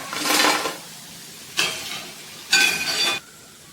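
Bhaji fritters sizzling in hot oil for a Gudi Padwa festival thali, three loud bursts of bubbling, crackling frying noise separated by quieter gaps, with faint clinks of a utensil, close up and without talk.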